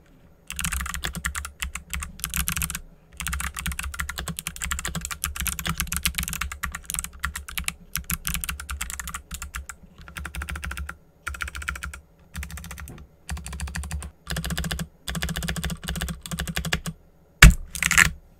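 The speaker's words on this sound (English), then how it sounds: "let's see how the box jades sound inside this case" Typing on a KBD75 V2 mechanical keyboard fitted with Kailh Box Jade clicky switches and cherry profile keycaps: rapid, crisp clicking keystrokes in dense bursts with brief pauses, close and alone.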